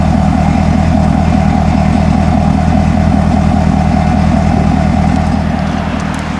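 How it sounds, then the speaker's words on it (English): A 2008 Chevrolet Corvette Convertible C6 with an LS3 engine idles steadily, a loud, low, even rumble with a fast rhythmic pulse that holds alone from start to finish, easing slightly at the very end. "get an idea of the sound that this car makes just at idle"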